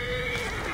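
A horse whinnies in Assassin's Creed Origins, a loud, close neigh with a shaky harmonic tone over hoof clatter and game ambience, heard alone without talk.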